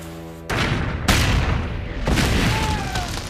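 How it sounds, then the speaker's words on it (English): Cannon fire blasting gates open in a 2002 western, a series of heavy, booming blasts in quick succession, each followed by a rumbling roar of debris and noise. "Blast those gates open now!"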